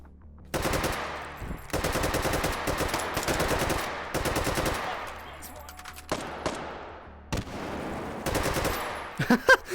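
AK rifle gunfire in a video game fighting Sosigs: long sustained automatic bursts, loud and close, broken by short pauses and a few shorter bursts near the end.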